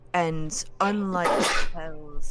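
A sneeze bursts out loud and close in the middle of a tabletop role-playing game session, surrounded by steady talk from players before and after.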